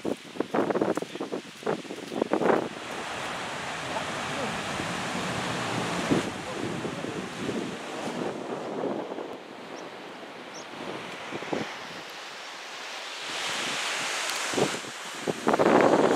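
Waves wash onto a beach in southern Portugal with a continuous rushing surf roar, wind buffeting the microphone, and a few brief sharp rustles and bumps near the start and end.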